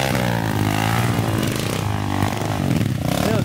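Motorcycle engine roaring loud and close, holding a steady, buzzing drone with slight pitch swells throughout, with no speech over it.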